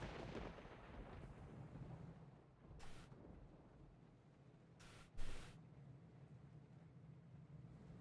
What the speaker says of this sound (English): the thunderclap always reminds me of the intro to that song